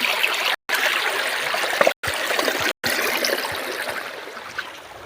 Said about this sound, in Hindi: पानी ऐसा जा रहा है।